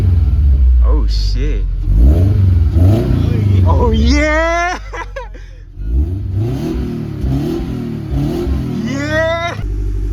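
Revving of a 2013 Subaru BRZ engine fitted with a Tomei UEL header, loud and close, with rising throttle sweeps that climb and drop several times over a steady idle rumble, while a person reacts excitedly throughout.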